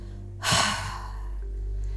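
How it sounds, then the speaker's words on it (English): One deep, breathy exhale opens a breathing exercise. It is a close, soft rush of air that fades into quiet room tone. "So you start with the exhale and then you move into an inhalation"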